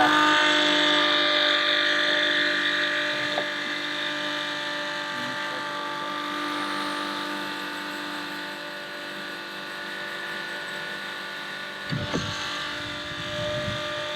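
Flowjet macerator pump running while dumping an RV gray tank, a steady motorized whine and hum that drones on close by, with a brief clunk near the end.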